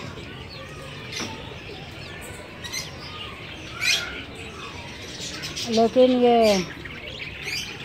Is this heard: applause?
no